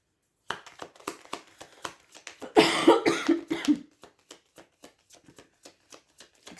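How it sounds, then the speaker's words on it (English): A burst of harsh coughing, loud and close, amid quiet rhythmic tapping and shuffling sounds before and after, during a tarot reading. "Excuse me for coughing."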